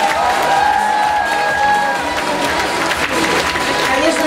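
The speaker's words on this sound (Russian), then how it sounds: "давайте еще раз громко поаплодируем этим замечательным девочкам и мальчикам" An awards ceremony at a children's Star Carousel festival in Zelenodolsk, 2016, with steady applause and ovation from the audience. The clapping is thick and continuous, with crowd noise and a faint tone running through it.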